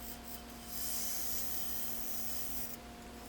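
A butternut slab turned on a wood lathe as a wide, shallow plate, with a steady rough rasp as the tool removes material, loud and close over a constant motor hum.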